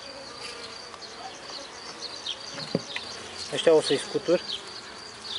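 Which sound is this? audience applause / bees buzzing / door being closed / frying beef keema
bees buzzing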